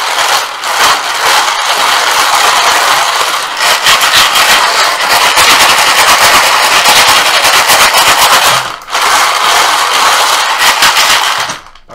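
Loud, continuous clattering rattle of many small raffle balls tumbling inside a rotating container, with a couple of brief pauses.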